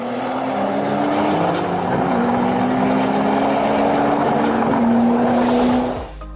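A Trabant fitted with a 3000 cc turbo engine racing against a Nissan GT-R, a loud sustained engine drone with rising and shifting pitch as the car accelerates, steady and close before cutting off at the end.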